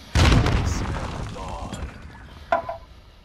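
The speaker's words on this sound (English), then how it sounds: "I'm gonna give him that grenade" A grenade explodes in Call of Duty Modern Warfare with a heavy close boom that rumbles and fades over a couple of seconds, followed by a sharp second crack near the end.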